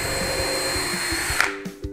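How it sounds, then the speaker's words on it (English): Power drill whirring steadily while driving into a school bus, a continuous close motor drone with a few brief knocks and a tapering off near the end. "I love working with my drill."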